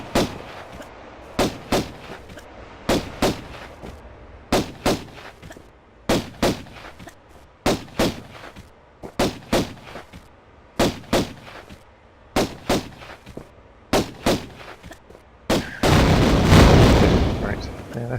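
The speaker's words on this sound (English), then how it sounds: "if you pull your pistols out, because it's in this room up here, you can just jump and take pot shots at it" Lara firing her pistols at an enemy in Tomb Raider, paired gunshots repeating at a regular pace roughly every second and a half, with a heavy rumbling blast near the end.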